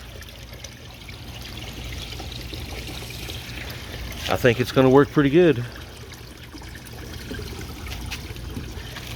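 Water trickles and pours steadily as it overflows in a DIY flood and drain hydroponic system, a constant watery wash heard under a man's brief speech.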